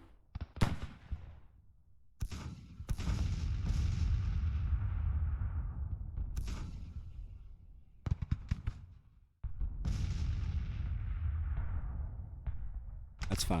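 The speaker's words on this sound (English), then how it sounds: "Yeah, they're still firing on us over here." Civil War battle at Gettysburg in Grand Tactician: The Civil War, with loud booming artillery and gunfire blasts, each followed by a long rumbling roll, recurring every few seconds.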